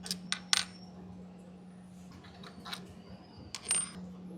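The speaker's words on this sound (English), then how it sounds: "Remove the bolts by hand then." Metal exhaust bolts are removed by hand on a Royal Enfield Himalayan 450 with a stainless steel exhaust: a few sharp metallic clinks and taps near the start and end over a steady low hum.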